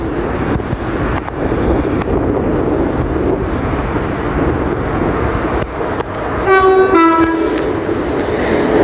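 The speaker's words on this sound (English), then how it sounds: "arriving in is the 1519 London North Western Railway service from London Euston to Crewe" A pair of class 730 London Northwestern Railway trains arrive at Milton Keynes Central on the West Coast Main Line with a loud, close rumble and wind buffeting, broken by a short two-tone horn blast.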